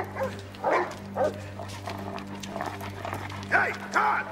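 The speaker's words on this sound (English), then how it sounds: "get those dogs out of here" Several dogs bark and yip in short, loud bursts close by in a medieval castle drama scene, with a few whimpers between the barks and a low steady hum underneath.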